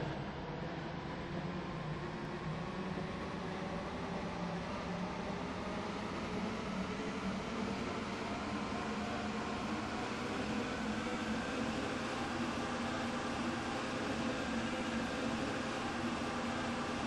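Class 377 electric train in a video game, a steady, even rolling hum and rumble that holds without a break throughout, with no announcements or voices.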